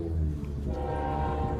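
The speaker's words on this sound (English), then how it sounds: "This is where I hear the trains in the distance." A Metrolink train sounds its horn, a steady layered tone that hangs loud and continuous, with rumbling rail noise underneath and no talking.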